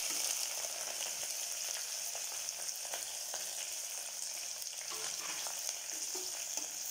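Onions, green and dried red chilies and curry leaves frying in a pan for potato kurma, a steady bright sizzle with faint crackles and light stirring scrapes, fairly quiet and continuous, with no talking.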